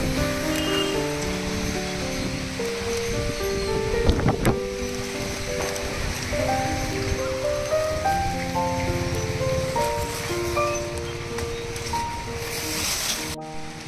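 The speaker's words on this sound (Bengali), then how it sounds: "জোরে বৃষ্টি পড়ছে।" Heavy rain pours down during a storm as a loud, continuous broadband rush like wind-driven water, heard throughout beneath a layer of melodic background music.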